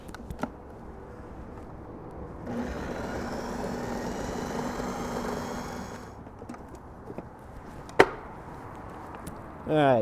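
A food processor whirs through chimichurri ingredients for a grilled shrimp bowl, a steady motor roar lasting a few seconds before stopping, followed by a few light clicks and knocks.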